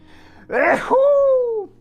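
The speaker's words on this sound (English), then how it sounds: "sneeze." One loud, close sneeze with a sharp burst, then a drawn-out voiced tail, alone with no talking.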